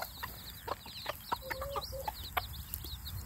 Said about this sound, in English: these hens are being protective of them and not letting anything happen to them